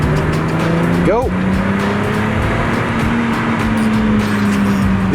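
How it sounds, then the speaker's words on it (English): BMW E30 325iS driven on the road, engine note droning on overrun with a brief rising rev and tire or gear whine, loud and close from the cabin, steady throughout. "The overrun on this thing is amazing."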